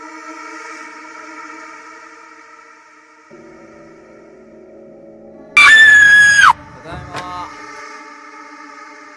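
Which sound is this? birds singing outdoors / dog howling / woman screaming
woman screaming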